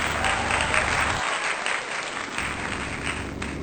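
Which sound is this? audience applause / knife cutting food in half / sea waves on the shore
audience applause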